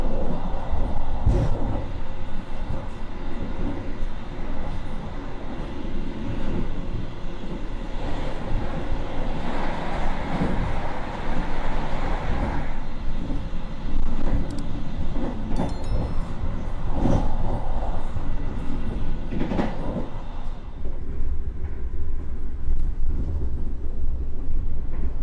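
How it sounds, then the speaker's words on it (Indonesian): Steady rumbling and rattling inside an economy-class carriage of the Mataram passenger train in Indonesia, a continuous broadband roar with occasional clanks, loud and close throughout. "ini dia untuk kereta api Mataram di kereta kelas ekonomi"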